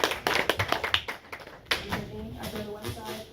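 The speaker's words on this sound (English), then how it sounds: "Give a hand clap" An audience claps their hands during a youth church panel discussion, a burst of close, sharp, irregular claps fading into a softer patter over a low murmur of voices.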